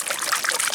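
A mudlarking find from the Thames foreshore rinsed in water, a brief close trickling splash.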